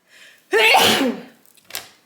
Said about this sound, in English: I'm getting ready to sneeze. I can feel it coming.